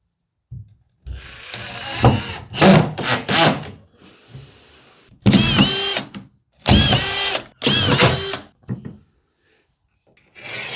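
A power drill drives screws into wood while an under-stairs cupboard is built at home, sounding in several loud, close whirring bursts separated by short pauses, with no talking.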